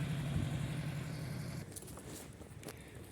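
An Ursus C-330 tractor engine idles with a low, steady chugging hum that drops back partway through, leaving quieter rumble with scattered clicks and light knocks nearby.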